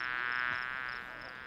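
Honeybees hum steadily around a beehive on a farm, a dense, continuous near buzz with a faint swell and slight drop partway, alone without talk.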